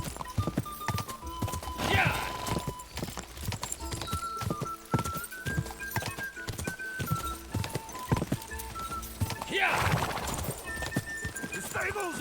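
Horses race at a gallop in the Kingdom Come Deliverance 2 video game, their hooves pounding in fast clip-clop rhythm, with two whinnies rising above and a voice talking over the action.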